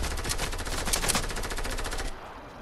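Rapid automatic gunfire in Fortnite Battle Royale, a fast steady burst of shots close and loud for about two seconds before cutting off.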